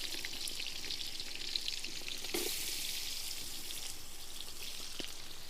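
Sliced onions sizzling steadily in sunflower oil in a pan while being stirred for chicken biryani, a continuous quiet frying hiss with a few soft scraping stirs.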